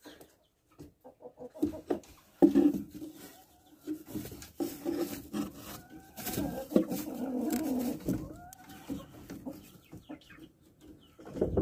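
Chickens cluck and murmur nearby in a chicken coop, a continuous low chatter of several birds with occasional sharper calls and faint shuffling.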